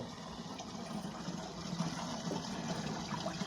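Red amaranth leaves being rinsed by hand in a vessel of water at home in Chhattisgarh, giving a steady close sloshing and trickling with soft splashes throughout.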